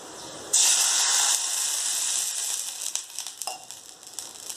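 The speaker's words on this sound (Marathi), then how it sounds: "आता आपण त्यामध्ये पाणी टाकून घेऊयात." Water poured into a hot pan of bajra flour bursts into a loud, close sizzle that starts abruptly, hisses steadily for a second, then settles into quieter bubbling and crackling.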